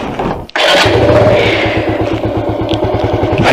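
A Bajaj Avenger motorcycle engine cranks and catches after a brief pause, then settles into a loud, close, steady idle as it warms up in 14-degree cold.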